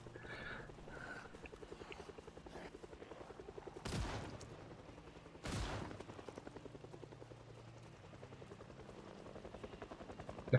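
Shotgun fire in Project Zomboid, two loud sharp blasts a couple of seconds apart, each ringing off briefly, over a low steady background hum and faint music.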